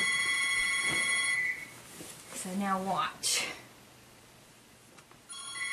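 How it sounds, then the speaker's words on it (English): A telephone rings loudly at the start and again at the end, a bright electronic trill, while someone speaks briefly in between amid rustling bedding. "The phone can ring for a minute."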